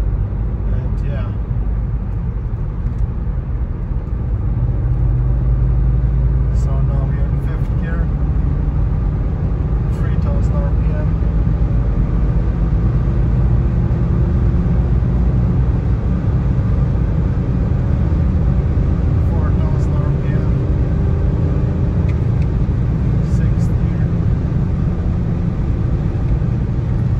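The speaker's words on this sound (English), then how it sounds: "And now we're gonna make a pull in like fifth gear" A BMW E90 330d/335d diesel car pulling hard in fifth gear, heard from inside as a steady, loud engine drone and road rumble that barely changes for the whole stretch.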